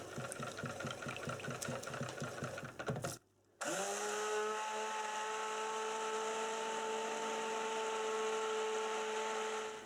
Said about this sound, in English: Now back to our stick blender and bringing this one to a light trace as well.